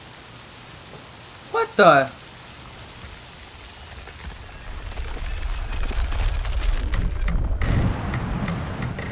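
Rain falls in the video game Sifu with a Batman mod, a hissing wash that swells from about midway and holds steady and fairly loud after a brief spoken exclamation near the start.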